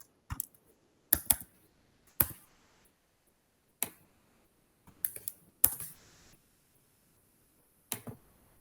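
Keys tapped on a computer keyboard while entering code, sparse isolated clicks and short bursts spaced over several seconds with quiet gaps between, close and crisp, no speech.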